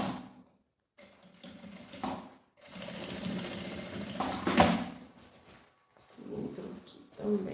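Sewing machine stitching a straight seam along a marked line on a modern backpack, running in several bursts of steady whirring separated by short pauses.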